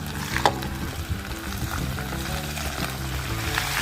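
Cabbage stir-fries in a grill pan outdoors on a mountaintop, a steady close sizzle with small crackles and scraping stirs running throughout, no talking.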